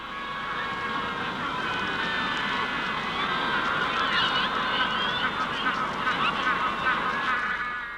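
Magellanic penguins call in a colony, a dense, continuous chorus of honking, braying cries from many birds near and far, with a steady hubbub throughout and no clear pauses.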